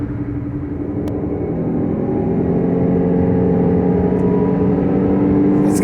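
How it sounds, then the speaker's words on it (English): Tire and road noise heard from inside a Jeep Cherokee Trailhawk cruising on the highway, a constant low droning rumble with steady engine hum, loud and unbroken, with no one speaking. "The tires on this one actually give it a little bit of a road noise."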